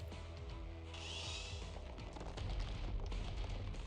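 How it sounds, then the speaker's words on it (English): A loud in-game roar of a chainsaw mixed with collapsing rock from Arknights, a continuous grinding, rasping racket with a bright whining burst early on, steady throughout with no talk. "Is that a mixture of a chainsaw's roar and collapsing rock?"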